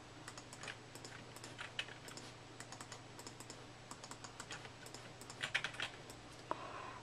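Rapid keyboard typing and mouse clicks while shift-clicking items in Minecraft, a steady run of close, crisp taps with a few louder bursts over a constant low computer hum, no talking.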